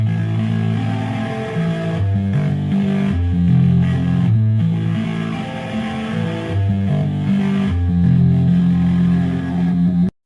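Heavily processed Super Mario Bros. jump sound run through an amp on a British Clean preset plays a riff, a continuous stream of chugging, shifting tones for about ten seconds, loud and even throughout.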